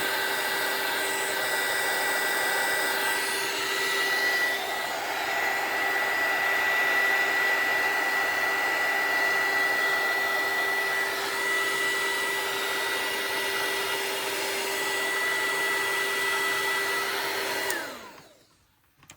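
A heat embossing tool blows a steady, loud, whirring stream of hot air, like a hair dryer, running continuously with a faint high whine before cutting off abruptly near the end.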